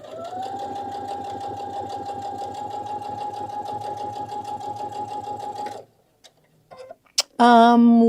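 Close sewing machine stitching a fabric wine carrier, a steady rapid whirring and ticking run of about six seconds that stops abruptly, followed by a few small clicks and a voice speaking.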